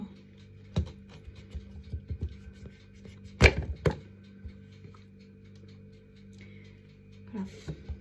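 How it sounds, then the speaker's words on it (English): A knife cuts through a red pepper on a board, giving a few soft, close chopping taps and one louder crunch partway through, with a quiet room otherwise. "Cut off how much red pepper you would like."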